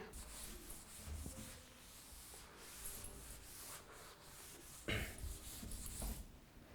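Writing is rubbed off a classroom board during a chemistry lecture, a soft, steady scrubbing and swishing that runs throughout at low level, with a couple of slightly louder knocks.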